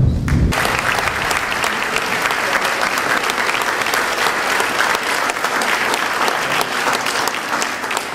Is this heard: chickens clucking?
no